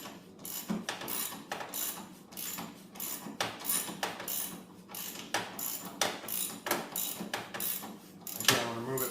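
A hand ratchet loosens a bolt on the Pro Action rear skid of a Yamaha snowmobile, giving a steady run of close, loud clicking strokes, each burst separated by short pauses as the handle swings back.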